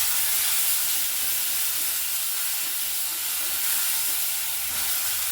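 Spice paste with whole garam masala and cardamom frying in a pan as it is stirred, a steady bright sizzle and hiss that runs evenly throughout at close range, with no talk.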